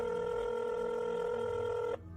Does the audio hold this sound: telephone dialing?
yes